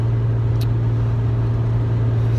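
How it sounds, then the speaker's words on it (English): A Nissan 350Z engine runs steadily on a dyno during light throttle tuning, giving a loud, constant low hum and drone with no clear revving, close by. "we threw it on the dyno, did some just light throttle tuning"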